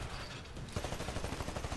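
Sustained automatic gunfire in Titanfall multiplayer, a steady rattle of shots picking up midway and continuing to the end, soft and somewhat distant.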